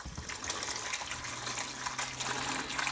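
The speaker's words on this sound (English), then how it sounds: "Let's go ahead and take our stock and pour it through the strainer." Chicken stock is poured from a pot through a strainer into a bowl, a steady close gush and splash of liquid with a faint low hum beneath.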